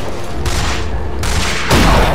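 Rapid, loud bursts of gunfire in the video game Rage, dense overlapping shots with no talking.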